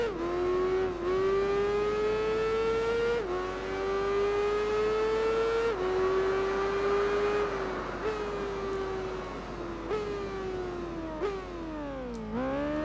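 A superbike races in Tourist Trophy, its engine howling steadily up through the gears, each climb in pitch cut by a quick drop at the shift, heard alone and continuous.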